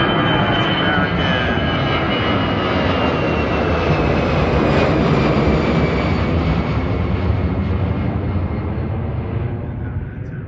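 A jet airliner departing DCA airport roars loud and steady throughout, its broad engine rumble swelling and slowly fading slightly as it climbs away after takeoff.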